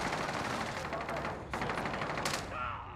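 Rapid automatic gunfire rattles through a Call of Duty Warzone match, dense bursts of shots running almost the whole time with a sharp crack near the middle and a brief sharper burst toward the end.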